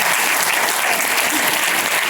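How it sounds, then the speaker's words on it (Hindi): Loud, dense applause from a crowd at an event in Mirzapur honoring a guest, a continuous roar of clapping with no pauses. "मैं चाहूंगा कि सर के लिए एक शानदार तालियां होनी चाहिए।"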